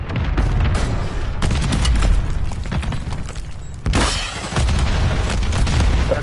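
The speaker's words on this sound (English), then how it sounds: "These fucking grenades are so brutal" Grenade blasts and gunfire in a battle royale shooter, loud booming rumbles with rapid shots layered over them, plus a sharp new explosion partway through.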